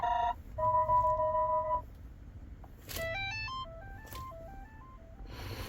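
Ringtone previews from the settings menu of a Lincoln Nautilus infotainment screen, short electronic melodies of clear stepped tones playing one after another, with brief rustles between them.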